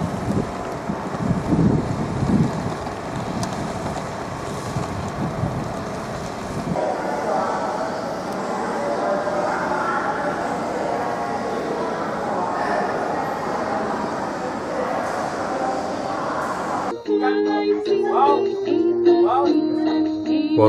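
A train pulls away from Haikou station in Hainan, giving a steady loud rumble and rushing wind-like rail noise that carries on throughout, then shifts to a different mix with music-like tones near the end.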